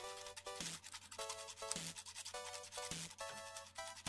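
Excess plastic being filed off a Revell Porsche 356 B Coupé model kit part, quick repeated rasping strokes in short bursts, close and quiet, with no voices.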